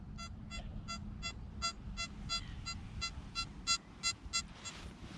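A Nokta Mini Hoard metal detector gives a ghost signal, a series of short electronic beeps repeating at a steady pace over low rumbling background noise, the tones growing slightly louder toward the end.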